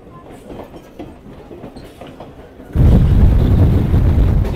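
A Sealdah to Dankuni local train runs with a steady rumble and wheel clatter, quieter at first and then abruptly much louder and fuller partway through, the noise continuing close and constant.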